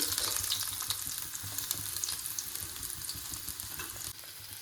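Shallots fry in coconut oil in a small pan for a tempering, producing a soft, even, continuous sizzle with faint crackles, slightly quieter in the final half-second.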